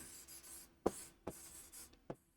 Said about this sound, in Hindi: सोचो, तब तक मैं लिखती हूँ।